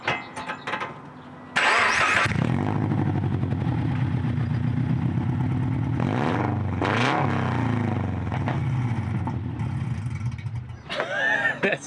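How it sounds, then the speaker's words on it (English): A 2016 Toyota FR-S with no cat-back exhaust, running on open headers without gaskets, cranks briefly, then catches and roars into a loud, raspy idle with a couple of blips of revving. "you do have to start the car and give it a rev with no exhaust on it, or no cat back, just open headers"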